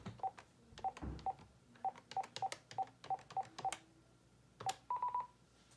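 A series of DTMF keypad tones from an RCA by Telefield home phone being dialed, short evenly spaced beeps in two quick bursts with a brief gap, close and clear over a quiet room.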